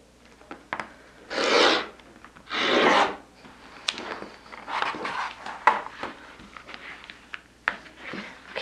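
A rotary blade slices fabric strips for a holiday fabric-chain garland. Two long, loud rasping strokes come first, followed by a series of lighter scraping and tapping sounds close by.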